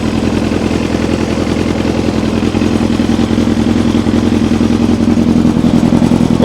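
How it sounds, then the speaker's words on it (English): Kawasaki ZX7R motorcycle engine running steadily in first gear during a rebuild, a loud, close, even throbbing drone with a fine rhythmic pulse and no speech. "I'm going to put it into first gear and I'll show you guys what I mean."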